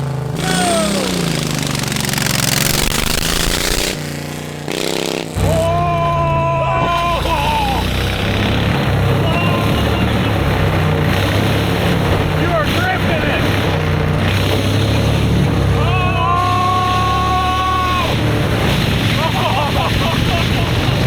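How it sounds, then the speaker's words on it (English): A Volkswagen Beetle fitted with a lawn mower V-twin engine drives a lap, its engine droning loudly and steadily with revs rising and falling, a brief dip midway, then pulling hard again close by. "we need to run another lap since we have the new engine in it to see how much faster it is"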